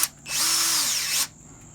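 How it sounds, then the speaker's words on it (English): A hand drill drives a screw into wood with a single steady, high whining burst lasting about a second. Quiet room tone comes before and after it. "be grateful you have a hand drill"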